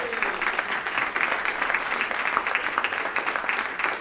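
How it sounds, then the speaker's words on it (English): A crowd claps together after a group sing-along at a talk, continuous dense applause at steady volume, fairly close, with no speech over it. "Clap yourselves, hey!"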